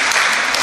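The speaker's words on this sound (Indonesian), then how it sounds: "Tepuk tangan untuk Romo Nofrin sekali lagi." Audience applause for Romo Nofrin at a Bible seminar, a dense, steady wash of many hands clapping close and loud throughout, without talk.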